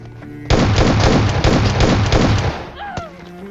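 S12K shotgun fire in a video game, a dense run of loud, heavy blasts packed close together over about two seconds, then fading into game effects.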